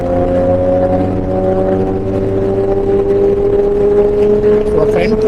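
A loud vehicle engine drones steadily close by on a road, a sustained roar with rising pitch toward the end as it passes.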